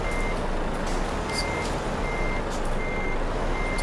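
Truck reversing beeps in Euro Truck Simulator 2, a steady repeating tone sounding under a constant engine rumble throughout.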